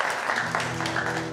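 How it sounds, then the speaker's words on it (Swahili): A studio audience at a live Kenyan evening talk show claps in a sustained, dense burst of applause, with a low steady tone underneath. "Tupige makofi kwa kipele ladies and gentlemen"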